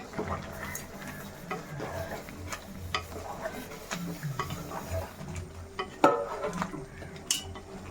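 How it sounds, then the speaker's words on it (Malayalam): Ground garam masala being stirred into a chicken curry in a pan, with steady scraping and stirring strokes over a soft sizzle and occasional clinks of a spoon against the pot, one sharper knock near the end. "ഇനിയിപ്പം നമ്മുടെ ഗരം മസാല എല്ലാം കൂടെ പൊടിച്ചാണ് നമ്മൾ ഇട്ട് കൊടുക്കുന്നത് നല്ലപോലെ ഒന്ന് മിക്സ് ചെയ്യാം നമുക്ക്"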